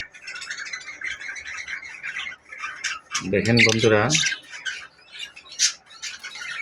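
A pair of budgerigars chirps and squawks up close in quick, busy bursts, with one louder squawking run in the middle, while someone speaks briefly over them.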